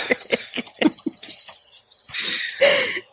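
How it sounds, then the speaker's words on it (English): Crickets chirping in bright, rapid trills, loud and close, in several bursts across the short stretch with brief gaps. "G is for crickets"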